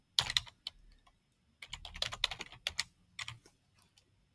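Computer keyboard typing while entering Python code for a Pygame project in PyCharm: two quick bursts of close, crisp keystrokes separated by a short pause, with no voices.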